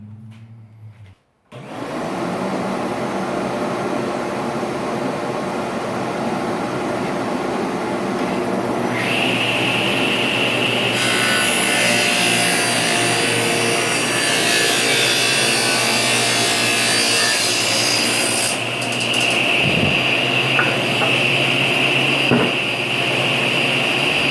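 A table saw rips a 1.5-inch strip off a wooden block for table-top fasteners, a loud continuous whine with the blade biting into the wood, steady throughout and briefly dipping near the end.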